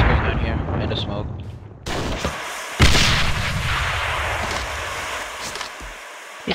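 Repeated grenade blasts in the online shooter Alliance of Valiant Arms, broad and heavy over constant battle noise, with a sharp loud burst near the middle and steady rumbling chaos throughout; no talk.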